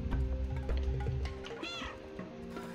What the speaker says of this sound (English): I'm a cat!